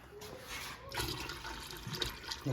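Tap water runs into a large empty tomato can to fill it, a steady close splashing flow that rises in level partway through.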